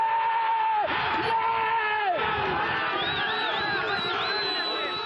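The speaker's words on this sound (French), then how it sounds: "Est-ce que leurs cris encouragent leurs joueurs ou découragent l'adversaire?" Football supporters at a match roar, shout and cheer as one loud, unbroken crowd, with rising whoops and chant-like calls standing out over the mass of voices.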